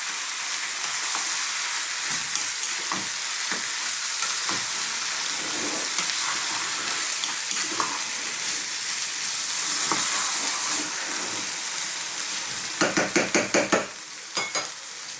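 Roughly chopped plum tomatoes stirred into a vegetable chili in a hot pan, giving a steady close sizzle with scraping spoon strokes and a quick run of clacking stirs near the end.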